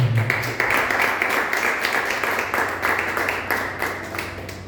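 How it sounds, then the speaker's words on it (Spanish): A church congregation claps for Jesus Christ, a dense, continuous patter of many hands heard from inside the room at moderate loudness, steady throughout with no voices. "Denle un aplauso al Señor Jesucristo."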